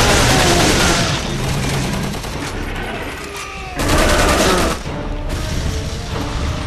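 Loud, dense gunfire in the video game Resident Evil 6 as a soldier fights through the demo's Chris section: sustained bursts with a brief lull near the middle, and a voice faintly under the din.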